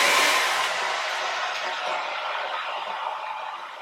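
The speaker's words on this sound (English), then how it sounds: "I'm going to use my blow dryer on cool to sort of speed this up" A handheld blow dryer running on its cool setting gives a steady, close, breathy whoosh of airflow that slowly tapers off slightly, with no talking over it.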